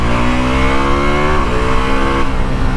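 A 2025 Ducati Multistrada V4S motorcycle engine accelerating hard, a loud, close harmonic roar rising in pitch, briefly dipping at a gear change, then climbing again.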